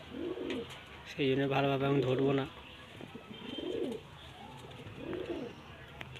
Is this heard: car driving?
no